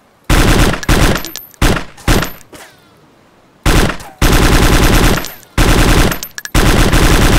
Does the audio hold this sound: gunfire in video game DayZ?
yes